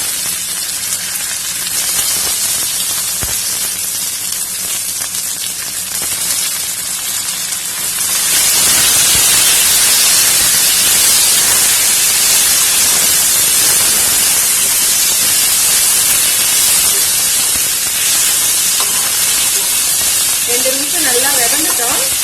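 Thuthuvalai leaves sautéing in a hot pan, giving a dense hissing sizzle that jumps louder partway through and then holds steady, with brief faint talk.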